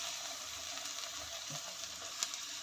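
Potatoes go into a pan of frying masala, and a steady, moderately quiet sizzle follows, with one small clatter near the end and no talking.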